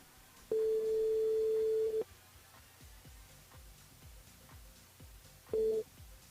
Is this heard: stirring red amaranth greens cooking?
no